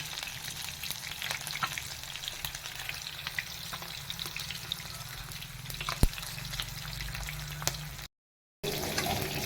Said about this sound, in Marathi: मस्तपैकी फ्राय झालेलं आहे, तेल उडतंय